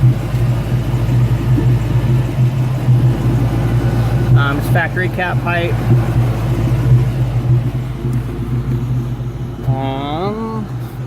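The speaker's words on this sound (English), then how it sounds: "It does have the Flowmaster exhaust, which sounds great." A 2003 Mustang Cobra engine with a Flowmaster exhaust rumbles steadily at idle with a deep, throaty exhaust tone, while someone talks over it.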